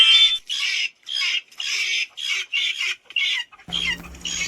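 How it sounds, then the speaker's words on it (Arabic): Guinea fowl calling at a bird garden: a rapid series of harsh, shrill, rhythmic cackles repeating about ten times, close and loud, ending with a broader rustling burst. "يلا نشوف الدجاج الحبشية."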